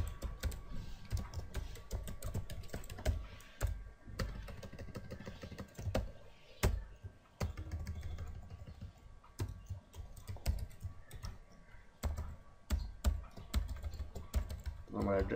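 Rapid, uneven keystrokes on a computer keyboard clatter close by for the whole stretch, with brief pauses and a low background hum.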